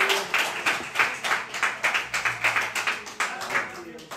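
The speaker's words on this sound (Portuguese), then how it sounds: "Aplauda o Senhor com o seu melhor." Church congregation clapping together in a steady rhythm, about two claps per second, moderately loud and close, with a voice faintly audible underneath.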